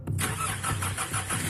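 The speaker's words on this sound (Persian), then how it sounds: "ماشین رو روشن کن بریم" An old, worn-out car engine cranks and catches, a mid-pitched motor starting up close and loud, then settling into a rough idle with no voices over it.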